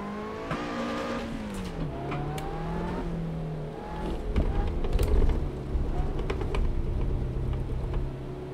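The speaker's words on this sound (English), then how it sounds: "See how I'm controlling the supercharger with my gas pedal like you would in real life." Supercharged car engine revving in the Assetto Corsa racing game, with a whining pitch that rises and falls as the throttle is worked and then settles into a louder, steady drone over several seconds.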